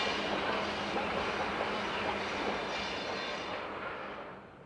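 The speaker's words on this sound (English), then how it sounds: "Despite its size and chugging steam and distinctive whistle, the train seems very much a friend to the national park's environment." The Grand Canyon Railway steam train running through Coconino Canyon, a dense, steady rolling rumble of wheels and cars that gradually fades toward the end.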